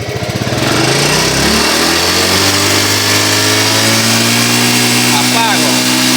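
A motorcycle engine starts and is revved, its pitch climbing quickly and then holding a loud, steady buzzing drone close by.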